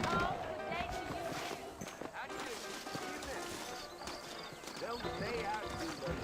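Horse hooves clip-clop steadily in the Western game Red Dead Redemption, mixed into a busy game soundscape while voices talk over them throughout.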